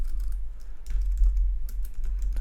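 Rapid typing on a computer keyboard, with quick irregular key clicks over a low steady hum, close and continuous throughout.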